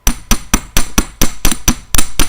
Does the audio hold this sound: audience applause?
no